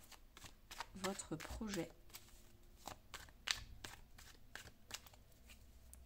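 Tarot cards shuffled and drawn for a cross spread, a soft close flurry of riffling and flicking slaps, followed by scattered card snaps, with someone talking quietly over part of it.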